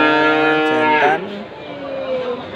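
A single cow lows loudly and close at the Wlingi livestock market, a long drawn moo that bends and breaks off, followed by quieter market background.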